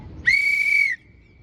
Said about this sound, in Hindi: ध्यान केंद्रित करने वाली सीटी।